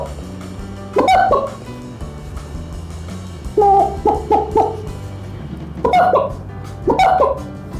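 A person vocally imitates a rooster and a hen, giving loud bursts of crowing and clucking calls separated by short pauses, over a steady background of music.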